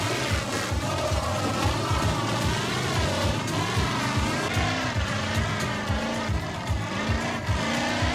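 A vintage monster truck's engine roars loud and steady at a crowd-filled show, its revs rising and falling in sweeping waves with a rough low rumble throughout and no talk.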